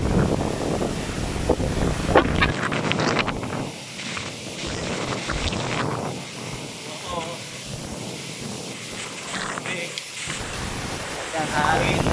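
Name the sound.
strong typhoon wind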